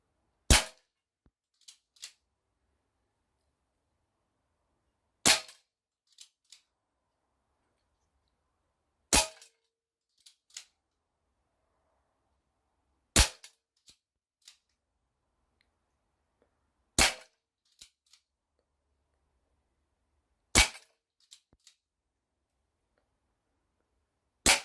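An Artemis CP1 multi-shot 4.5mm air pistol fires at a target about nine to ten metres away: six sharp, isolated cracks spaced roughly four seconds apart, each followed by faint clicks, in an otherwise quiet room.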